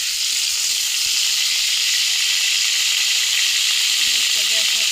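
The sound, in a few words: chili sizzling in hot oil in a wok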